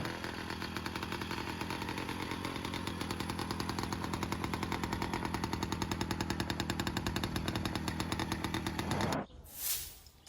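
An old French Automoto motorcycle engine runs steadily on a cold day with a rapid, even, rattling putter for about nine seconds, then cuts off abruptly, leaving a brief rustle, fairly close and with no talking.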